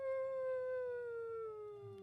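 A person imitates a wolf howl with a single sustained, slowly falling voiced tone lasting about two seconds, heard close and alone.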